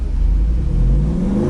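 The 392 V8 of a Jeep Wrangler revs hard, its wheels spinning while the vehicle is stuck on a log off-road, making a loud, close, rising engine roar over a brief moment.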